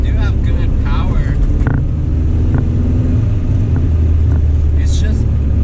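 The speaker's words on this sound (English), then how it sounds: "something about the idle just does not feel right. But it is rattly." Rough, rattly idle from a 1978 Triumph Spitfire engine, a steady low rumble that stays loud and close throughout, with a few faint clicks and knocks riding on top.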